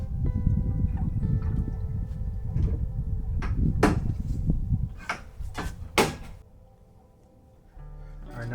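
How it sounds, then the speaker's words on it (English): Side door of a truck camper swinging shut, heard as a few sharp knocks and a latch clunk in the middle of the clip over a steady low hum, followed by a quieter tail. "Let me close down the side door so that you can see."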